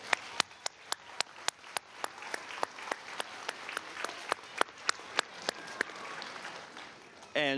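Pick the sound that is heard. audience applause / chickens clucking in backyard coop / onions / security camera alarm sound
audience applause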